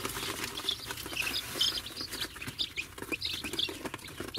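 High-pitched cheeping from a group of young chicks, scattered and overlapping, with soft rustling and shuffling underneath.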